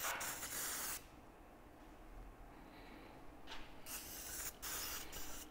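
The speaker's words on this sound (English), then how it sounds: "spray down the gasket groove" A long, steady hiss of a spray bottle runs for about a second, followed by several shorter bursts of spraying close to the microphone.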